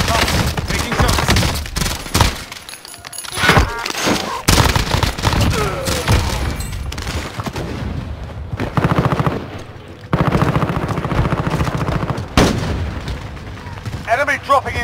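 Dense, loud gunfire in Warzone: rapid volleys of shots and overlapping bursts fill the whole stretch, with brief lulls between barrages and a few heavier booming hits.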